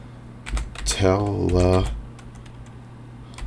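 Quick, clicky typing on a computer keyboard, a short run of keystrokes up close while someone talks over it.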